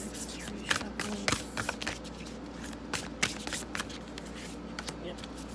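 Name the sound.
shuffling a deck of cards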